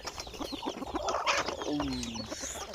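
Chickens cluck in a morning farmyard with other birdsong around, a steady mix of short clucks and chirps, fairly close, with a drawn-out call near the end.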